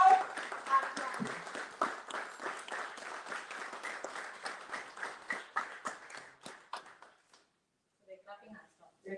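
Seminar audience claps in a dense burst of many hands that thins into scattered claps and fades to near silence before a few last faint claps, with voices mixed in.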